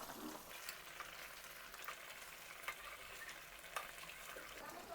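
A jaggery and gooseberry sweet mixture being stirred in a pan, a soft steady sizzle with faint scraping strokes and an occasional light tap, low and continuous throughout.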